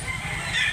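A rooster crows loudly and close at a chicken market in Consolacion, Cebu: one short, bright call with no talk over it.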